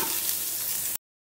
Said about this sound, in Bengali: এর উপরে দিয়ে দেবো পেঁয়াজ কুচিটা, এটা বেশ করে ভাজা ভাজা করতে হবে।